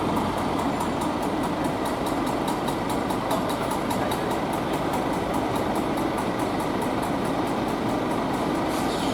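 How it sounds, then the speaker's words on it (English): A vehicle engine idles steadily on a Hong Kong street while someone works on it, a continuous moderate rumble with a fast regular pulsing, alone and without voices throughout. "Fixing his engine on the street"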